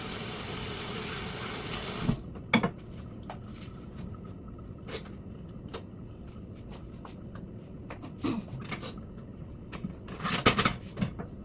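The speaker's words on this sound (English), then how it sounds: "Wash my hands." Hands being washed under a running kitchen sink tap at home: a steady gush of water that cuts off after two seconds, followed by scattered wet clicks, drips and handling noises nearby.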